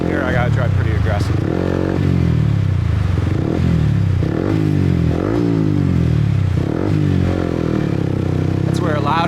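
Motorcycle with a loud exhaust riding through Saigon traffic in Vietnam, a small sports bike whose engine drones steadily up close with repeated throttle rises and gear-change dips, loud and continuous throughout.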